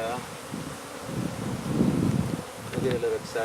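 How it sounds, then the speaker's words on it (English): Honey bees from an exposed hive being removed outdoors in Edcouch, Texas, make a dense, continuous buzzing drone that swells and fades slightly, close and fairly loud, with faint voices beneath. "You hear all the buzzing now?"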